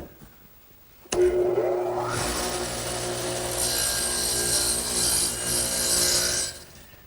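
Power saw cutting a wooden tenon on a garden bench leg, starting abruptly and running as a loud steady rasping buzz for several seconds before fading out.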